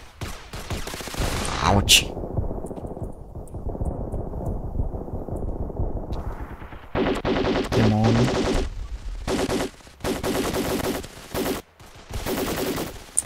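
Gunfire in the video game Ravenfield fighting a bug invasion: dense, sustained automatic fusillades and machine-gun bursts, loud and close, broken by short pauses, with a player speaking briefly over the shooting.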